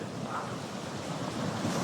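Steady ocean waves and surf wash along Baler beach at Barangay Reserva during traditional pukot net fishing, a continuous broadband roar mixed with wind buffeting the microphone, with no voices.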